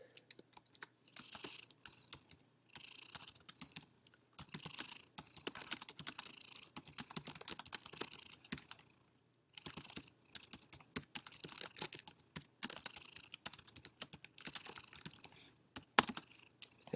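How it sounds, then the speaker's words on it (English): Steady typing on a computer keyboard while writing a thesis statement in Google Docs, close and crisp, with bursts of rapid key clicks separated by short pauses and no talking. "So we want to indent, obviously, to start typing that thesis statement that we created."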